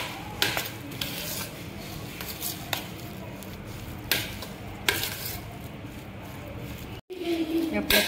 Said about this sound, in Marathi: आता आपण हे मिक्स करून घेऊया।